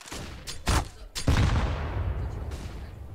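Pistol gunfire on Dust 2 in a Counter-Strike match between Na'Vi and BIG, a few sharp, loud shots in quick succession followed by a lingering rumbling echo, with a faint voice in the background.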